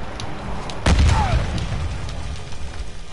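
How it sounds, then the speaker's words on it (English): Mortar strike explosions in a Call of Duty video game: a sharp, loud boom lands about a second in, followed by rumbling blasts and scattered pops under a steady battlefield din. "Hostile mortar strike near your position."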